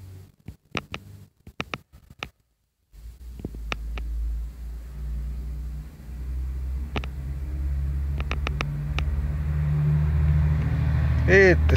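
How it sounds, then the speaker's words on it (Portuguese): A truck rumbles past close by, its deep low-frequency engine drone building steadily from a quiet start and growing louder toward the end, with a few sharp clicks and taps scattered over it. "Eita, esse caminhão aqui."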